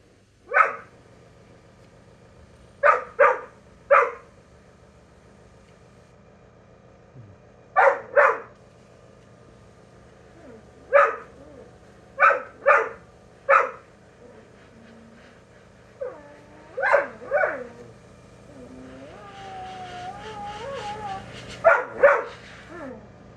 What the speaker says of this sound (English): Put the dog out so he'll hopefully calm down, or at least he won't be barking at us.